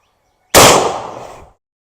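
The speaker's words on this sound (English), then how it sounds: "Let's shoot it across the chronograph into the ballistic gelatin." A single Henry X lever-action rifle in 45-70 fires into ballistic gelatin across a chronograph, one very loud, close blast with a sharp onset and a ringing decay of about one second.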